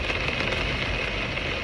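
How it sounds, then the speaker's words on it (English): Torrential rain and wind pound a wild camp in Cumbria, a dense, steady roar of drumming rain that holds at an even loudness throughout. "So yeah, torrential rain, wind's picking up,"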